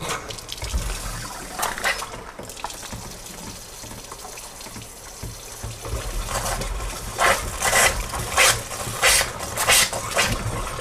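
Water runs and gushes from a kitchen tap in a home affected by fracking methane, a steady close splashing that surges in several louder bursts toward the end.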